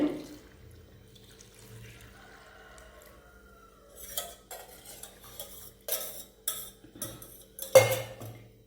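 Diluted buttermilk poured into a cooking pot, with soft splashing and liquid pouring sounds followed by several clinking, clattering bursts of utensils against the vessel, close and moderately quiet.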